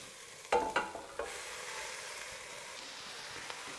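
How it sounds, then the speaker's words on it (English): Ground beef frying with carrots in a pan for bolognese, a close, steady sizzle broken early by a few sharp scraping stirs, then settling into a softer continuous crackle with no voices. "As you can hear, it's sizzling and it's frying away."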